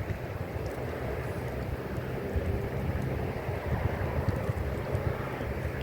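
Strong wind on the Dnipro river buffets the microphone in a loud, continuous roar with gusty low rumbling over water, and no one speaks.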